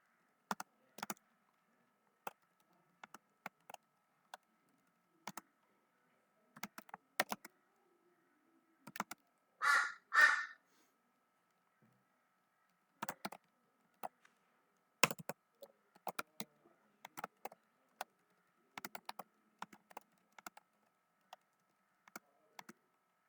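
Sparse clusters of keystrokes on a computer keyboard, tapped in short bursts with pauses between, fairly faint, plus one brief louder rustle near the middle; no talking.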